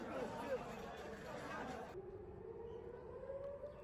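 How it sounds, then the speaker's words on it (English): Air raid sirens wail in Tel Aviv, a rising and falling civil defense tone sounding at a distance beneath crowd babble and a steady voice speaking over it. "Air raid sirens rang out in Tel Aviv, sending people running down into bomb shelters until the danger passed."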